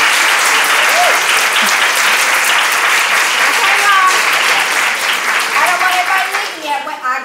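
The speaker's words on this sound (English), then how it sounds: "So another round of applause for Dr." Audience applause at a nursing science leadership talk: loud, dense clapping from a large crowd, with a few voices calling out beneath it, tapering slightly near the end.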